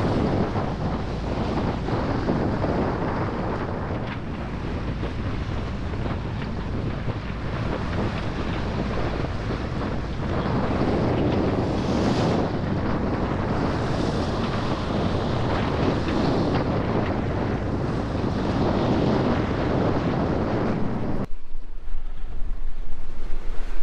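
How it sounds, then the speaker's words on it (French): Strong wind gusts of around 20 knots roar across a sailboat at sea, with loud buffeting wind on the microphone and waves rushing continuously beneath, swelling and easing over time. "on a des rafales à 20 nœuds"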